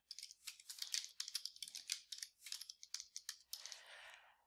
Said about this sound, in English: I can type a comment, please place in ice cream freezer.